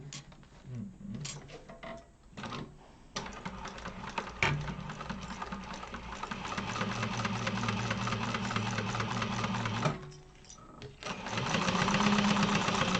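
A sewing machine runs long basting stitches along the edge of a Neo Crossbody bag, with steady bursts of stitching that stop and restart, close and fairly loud, and a pause near the ten-second mark.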